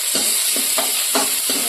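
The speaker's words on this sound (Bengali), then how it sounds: "হালকা ভেজে দেবো।" Mushrooms fry lightly in a pan for a dahi masala mushroom dish, with a steady sizzle running underneath and four distinct scraping stirs of a spatula spaced out in a loose rhythm, close and fairly loud.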